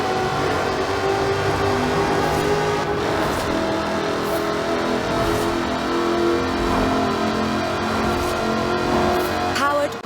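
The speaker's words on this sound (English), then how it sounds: "Powered by a 5-litre V8 supercharged engine, with a fully aluminium body, it's blisteringly fast" A powerful car engine roars and revs continuously, loud and close, with a steady throaty rumble throughout.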